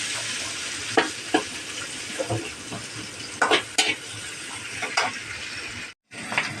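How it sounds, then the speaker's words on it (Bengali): Chopped green chilli and onion sizzle in hot oil with whole cumin in a wok, a steady hiss broken by sharp scrapes and clinks of stirring and a brief pause near the end. "তারপরে কাঁচা লঙ্কা কুচি আর পেঁয়াজ কুচি দিয়ে দিলাম কড়াইতে"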